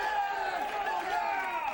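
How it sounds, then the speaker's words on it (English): A small crowd of coworkers cheering and hollering together as a studio audience section, a steady busy roar of voices lasting under two seconds. "Looks like you brought your own cheering section"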